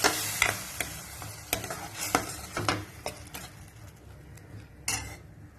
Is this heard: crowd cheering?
no